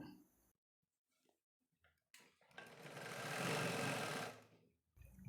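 A sewing machine stitches down a folded blouse hem in one short burst of quick, close whirring, with quiet gaps and a brief sound before it.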